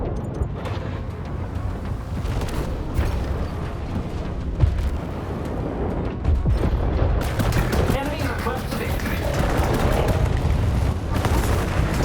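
A swing cannon in the robot combat game War Robots: Frontiers fires in dense rapid bursts, layered with explosions and heavy mechanical battle noise that stays loud and continuous throughout, with a voice talking over it.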